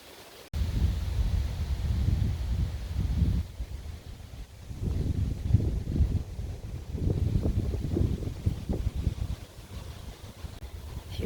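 Strong gusting wind buffets the microphone outdoors on an overcast day in northern Nevada, with low rumbling surges that rise and fall irregularly and no voices.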